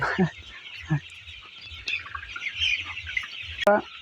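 Colour-bird broiler chickens on a farm cluck in short, close bursts while being caught, ending with a loud, sharp squawk.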